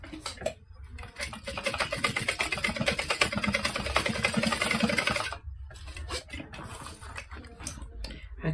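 A sewing machine stitches a quarter-inch seam on a Kayla bag, its needle chattering in a fast, steady buzz for about five seconds before stopping, followed by quieter handling noises and brief pauses.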